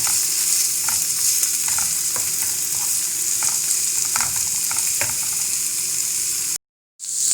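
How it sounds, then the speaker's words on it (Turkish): Cooked beans sizzle steadily in a pan, with occasional clinks and scrapes as they are stirred and sautéed, a close continuous hiss with no talk; it breaks off in a brief silence near the end. "Şöyle 3-4 dakikada fasulyeyle kavuracağız."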